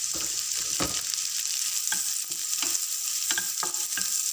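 Garlic fried rice with mushroom stir-fried in a hot pan: continuous crackling sizzle with repeated scraping strokes of a spatula at an uneven rhythm, close and fairly loud.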